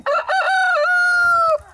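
A rooster crows once on a backyard chicken farm kept by a young livestock farmer, a single loud, close, drawn-out call that holds steady and then drops off sharply.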